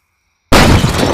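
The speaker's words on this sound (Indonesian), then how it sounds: "Tapi ini yang besar lagi guys pakai dinamit." A large dynamite-type firecracker blasts after half a second of silence, one sudden, very loud, close explosion with a sustained roaring, crackling tail.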